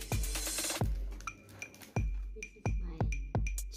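Glasses clink in a casual toast over drinks. Several sharp, thin clinks come at uneven intervals, quiet and close, with soft rustling in between.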